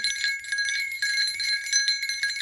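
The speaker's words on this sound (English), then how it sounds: "I'm just going to use these bells" Small bells ring in a steady, shimmering jingle, bright and close, with repeated strikes overlapping throughout and no voices.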